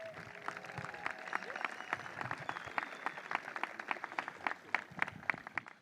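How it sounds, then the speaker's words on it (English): A large gathering at a college induction ceremony applauds the incoming class: sustained, fairly faint clapping from a crowd, steady throughout with scattered sharper claps. "Can we give them a round of applause?"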